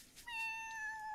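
A cat in The Sims 4 video game lets out a single drawn-out meow, clear and fairly close, rising and sustaining with a steady tone, with no voices over it.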